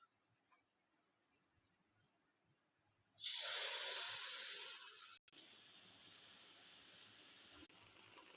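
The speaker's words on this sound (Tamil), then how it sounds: "ஆயில் நல்லா சூடு ஏறினதும் மீடியம் ஃப்ளேமில் வச்சுட்டு அப்பாத்தை ஊற்றிக்கலாம்" Rava appam batter hitting hot oil in a pan over medium flame: after near silence, a sudden loud hissing sizzle bursts in, then settles into a steady, softer frying crackle that continues to the end.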